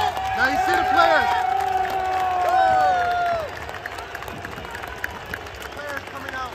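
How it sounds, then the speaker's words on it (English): Football fans roar and whistle as players come out onto the pitch at the CSKA Sofia vs Levski Sofia derby, a loud stadium crowd that eases off halfway, with a voice talking over it. "It's a standing ovation for the players as they are coming out on the pitch"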